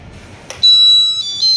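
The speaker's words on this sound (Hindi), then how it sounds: "ये बजर बजना स्टार्ट हो गया।" An automatic pulverizer machine's buzzer starts up after a click, a loud, steady high-pitched electronic tone that wavers slightly and holds.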